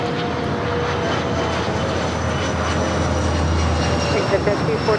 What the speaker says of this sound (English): Asiana A380.